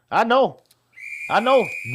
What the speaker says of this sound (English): that goddamn whistle